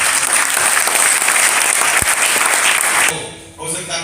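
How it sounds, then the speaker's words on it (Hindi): A seminar crowd in Raipur bursts into loud, dense applause that holds steady for about three seconds, then cuts off abruptly into quieter room noise. "एक बार खुद के लिए जोरदार ताली।"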